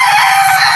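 A rooster crows loudly and close, one sustained raspy call filling the whole brief moment.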